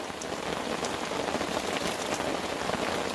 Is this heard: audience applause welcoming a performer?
no